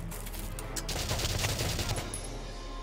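Sustained gunfire from Valkyria Chronicles, a dense rapid fusillade of shots rattling continuously and loudly for several seconds, then easing off toward the end.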